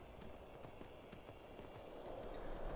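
A horse gallops in the Skyrim video game. Its hooves clip-clop in a quick, regular rhythm that is fairly faint and grows slightly louder toward the end.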